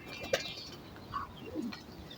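Soft, low cooing from a Fakir Gul cross-bred highflyer pigeon in a breeding loft, heard as a few faint, brief murmurs against quiet background rustle.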